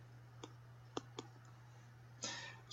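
Button presses on a calculator as numbers are typed in, a few sharp separate clicks spaced unevenly, then a brief burst of rapid clicking at the end, fairly faint over a steady low hum.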